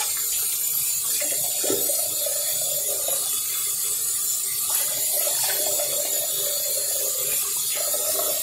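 Cold tap water runs steadily into a sink while someone splashes it over their face, a constant hiss with intermittent splashes and gurgles, close and fairly loud.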